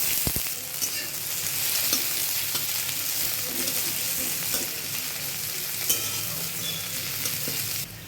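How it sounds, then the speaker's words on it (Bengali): Two bay leaves and chopped onion fry in oil in a wok with a dense, close, continuous sizzle, broken now and then by faint stirring clicks. "সবার প্রথমে 2টো তেজপাতা ছেড়ে দিচ্ছি, এরপর পেঁয়াজ কুচি দিয়ে দিচ্ছি"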